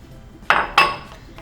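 Two quick clinking knocks as measured dry ingredients for chocolate chip cookies are tipped into a mixing bowl, each a short bright clatter with a brief ring, fairly close and otherwise quiet.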